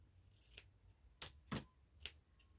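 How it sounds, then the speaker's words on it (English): Scissors cutting a piece of ribbon for a sock bunny craft, four quiet, close, crisp snips spaced unevenly over a couple of seconds against a faint background. "let me cut my piece of ribbon"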